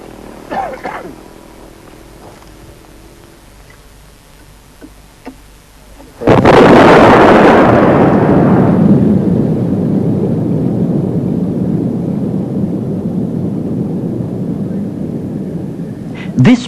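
A sudden loud dynamite blast in quick clay on a Norwegian clay terrace erupts after a quiet stretch, then rolls on as a long, sustained rumble for about ten seconds.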